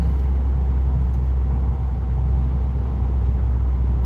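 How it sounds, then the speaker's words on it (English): A continuous low engine rumble comes from a 2020 Subaru WRX as its turbo builds and the car pulls away, heard steadily from inside the cabin with no talking. "I like kind of letting that turbo spool up and then pull away"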